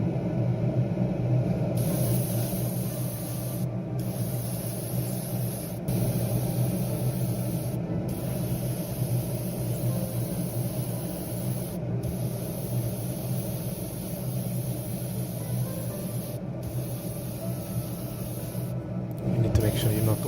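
Spray painting parts from a 1/24 scale BMW M4 G82 wide body model kit, a steady hiss running throughout with a few brief breaks where the spray stops.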